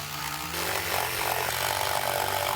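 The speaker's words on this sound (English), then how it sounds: "2 pieces of ply that I'm going to cut out with a jigsaw" A jigsaw cuts through a sheet of plywood, a steady, loud buzzing drone that runs unbroken from start to finish, close by and without talk.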